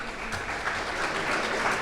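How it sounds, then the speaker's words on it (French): An audience at a film-industry award assembly applauds Sophie Dulac, a continuous, even burst of many hands clapping that swells slightly toward the end, with no one speaking. "Je vous demanderai d'applaudir bien fort Madame Sophie Dulac."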